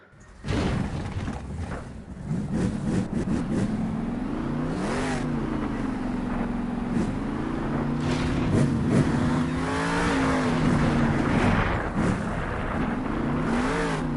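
A Monster Jam monster truck at an Anaheim show roars loud and close as it pulls a wheelie, its engine revving continuously with the pitch swelling and sagging through the run.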